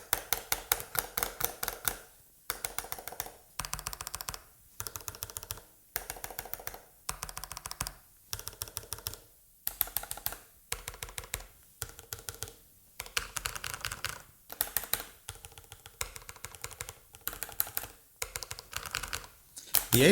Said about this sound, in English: These are the shadow hunting switches on the same controller, the R16. And these are the shadow hunting switches on the 8-bit Doe.